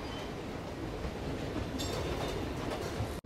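A subway train in a movie scene rumbles steadily along the tracks with a dense, continuous roar and faint rail rattle, ending in a sharp cut.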